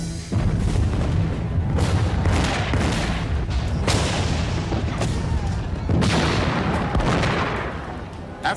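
Artillery bombardment during a siege, rendered as a sound effect: a dense, loud barrage of overlapping booms and rumbling blasts rolling continuously, with heavy thuds around six seconds in, with no speech audible.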